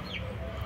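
Chickens and roosters clucking on a rural farm, a brief close cluck and short call over a low outdoor background.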